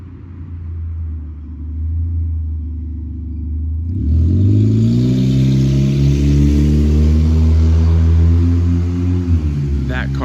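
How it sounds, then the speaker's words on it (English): A loud car with no catalytic converter revs and roars past at night, a deep rumbling engine swelling from a distant drone to a close, rising growl that holds strong. "That car doesn't have a catalytic converter."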